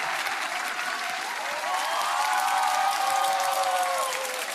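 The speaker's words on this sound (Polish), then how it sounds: "Wielkie brawa dla drużyny Marzeny." A studio audience on a Polish TV game show applauds a winning team, a loud sustained burst of clapping with a musical tone swelling underneath midway through.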